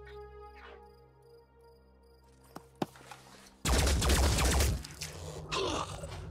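In the video game Phoenix Point, after a quiet stretch with a couple of sharp clicks, a loud burst of gunfire erupts, followed by a second, shorter blast a moment later.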